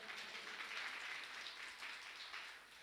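A church congregation claps during a New Year service, a steady, dense wash of applause lasting a few seconds at a moderate level.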